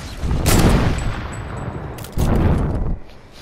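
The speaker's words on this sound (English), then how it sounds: "there's a guy shooting us from the side" Enemy gunfire in a squad battle royale shooter, two dense bursts of rapid shots with a pause between them, close and loud.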